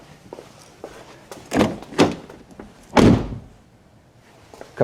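Door of a Japanese car slammed shut several times, each closing a sharp, hollow thunk heard nearby with faint handling noises in between.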